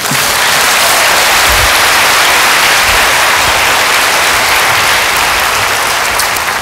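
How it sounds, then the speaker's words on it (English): Conference audience breaking into loud, dense applause for a speaker, many hands clapping continuously and close, with no voices. "Can I hear a round of applause for that?"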